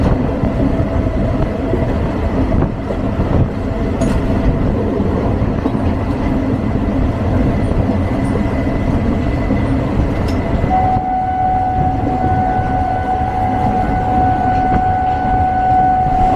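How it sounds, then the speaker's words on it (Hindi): A local train in West Bengal runs steadily throughout, its continuous broadband rumble and rattle holding at a loud level, with a sustained high tone rising out of the mix partway through and persisting to the end. "ट्रेन चालू हो गया"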